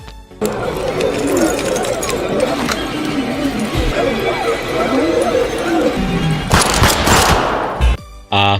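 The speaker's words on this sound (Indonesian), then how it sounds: "Akibat ketakutan, si bewok pun malah menembak rekannya." Rapid gunfire from a horror film, a dense, loud burst of shots running for several seconds with mixed crashing sound, cutting out abruptly near the end.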